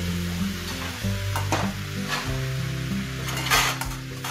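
Pepper mushroom fry is stirred in a hot pan, with scraping strokes over a steady sizzle and a few clinks of utensil against metal, all close and fairly soft, with no talk.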